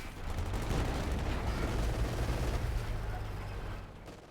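MG42 machine guns fire across a Company of Heroes 2 battle, with a dense, steady rattle of distant automatic fire and rumbling battlefield noise that holds for several seconds and then thins out.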